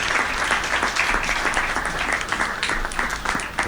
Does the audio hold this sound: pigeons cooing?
no